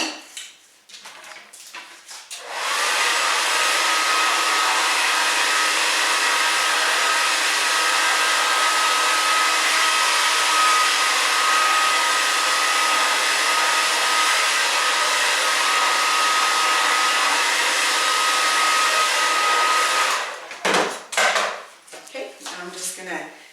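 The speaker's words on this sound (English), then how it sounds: "now I'm going to take sections to round brush her hair for more volume" Hair dryer blow-drying damp hair with a round brush, a loud, steady roaring blast running for about eighteen seconds, with brief brush and handling clatter before it starts and after it stops.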